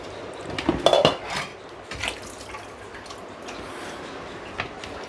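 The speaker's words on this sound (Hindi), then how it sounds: "अब हम बर्तन प्लेस करने वाले हैं" Plates and utensils clink and clatter as dishes are loaded into an IFB VX Plus 15 place setting dishwasher, with a cluster of close ceramic and metal knocks early on, then quieter rattles over faint water trickle.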